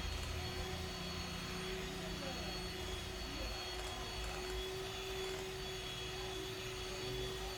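An electric beater whips eggs and sugar for a Christmas chocolate plum cake batter, giving off a steady, unbroken whir with a constant whine from start to finish. No one speaks.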